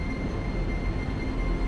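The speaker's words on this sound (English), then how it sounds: "Why the train? You always pick the train." A train gives off a steady, loud low rumble with constant mechanical noise, heard close as if from inside or beside the cars, with no talking.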